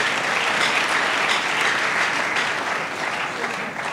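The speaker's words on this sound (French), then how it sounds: "Acclamez quand même." Sustained applause from an audience at a religious gathering with a preacher, a dense, steady wash of clapping filling the whole stretch at fairly constant loudness with no clear pauses.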